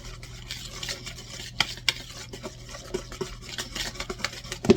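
Lemon poke cake ingredients being mixed in a bowl, a soft steady stirring swish with a few light clinks of a utensil against the side, close and alone with no talk.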